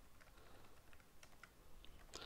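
Quick keystrokes on a computer keyboard at a desk, a scattered, moderately faint clatter of taps that bunch into a short burst near the end, with no voices.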